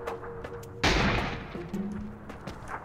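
Gunfire in an online shooter game: a loud sudden blast followed by a sustained burst of rapid shots, with scattered weaker pops before and after.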